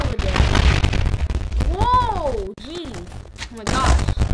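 A powerful bomb detonating in Minecraft, a loud booming blast with a rising and falling whoosh, followed by a second burst, all under excited talk and game noise.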